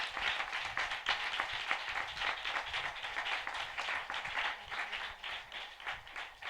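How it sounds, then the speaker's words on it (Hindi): A church congregation claps in dense, steady applause that holds level throughout, sounding full and close without any voices standing out. "हम जोरदार ताली से उनका स्वागत करें।"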